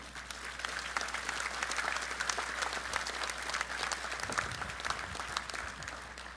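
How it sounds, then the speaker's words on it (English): Audience at a graduation ceremony giving a sustained round of applause, dense and even clapping that stays fairly soft and distant throughout. "I want all of us to give you a big congratulations and a round of applause"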